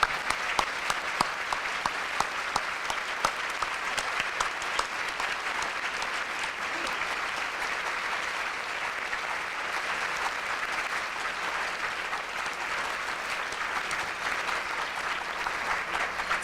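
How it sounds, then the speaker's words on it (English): Sustained clapping from a luncheon audience honoring cancer survivors, a steady wash of many hands at moderate distance with occasional sharper claps, continuing evenly without voices. "Let's give every survivor a big round of applause."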